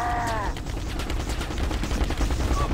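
Rapid gunfire in the Halo CE video game, dense bursts of shots crackling continuously and loudly over a game soundtrack, with a short synthetic tone at the start and end.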